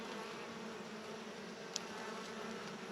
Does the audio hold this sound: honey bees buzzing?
yes